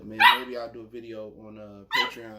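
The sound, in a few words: dog barking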